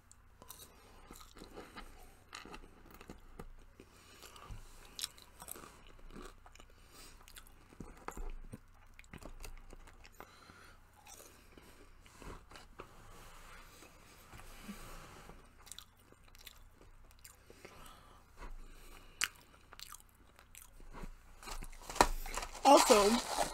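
Someone eats Burger King fries up close, with soft repeated chewing and crunching, wrapper crinkling and small rustles throughout, growing louder and busier toward the end.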